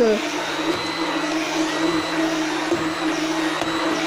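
A powerful blender grinds raw meat into natural pet food, a steady loud motor whine that runs throughout with slight load changes, close and constant.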